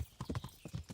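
Horse hooves clip-clopping in the medieval video game Kingdom Come: Deliverance, a quick uneven run of hoof strikes, close and fairly quiet.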